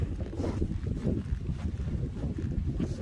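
Steady outdoor wind blowing on the Appalachian Trail, a continuous low rumble of breeze and wind buffeting against the microphone, with no talking.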